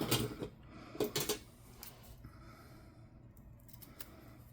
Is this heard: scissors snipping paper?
yes